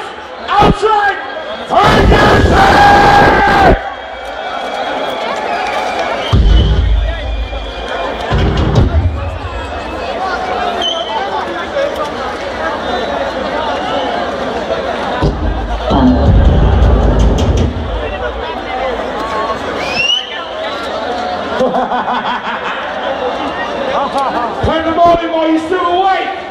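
Crowd at a live hardcore techno event in a loud, packed hall, roaring and shouting in waves with heavy thumps and bursts of noise throughout, and a voice calling out over the crowd.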